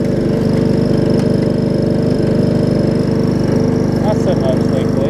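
A Craftsman riding lawn mower runs a test mow with its engine droning loudly and steadily at close range, a constant rough rumble that holds throughout.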